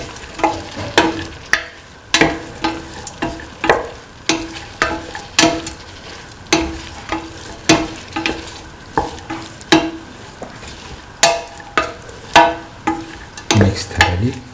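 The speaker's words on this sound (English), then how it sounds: "Thoroughly mix the green peas with the rest of the mixture." Green peas being stirred into a beef mixture in a pan for a beef and coconut milk rice dish, with steady rhythmic scraping strokes of a spoon and a light sizzle underneath, close and clear.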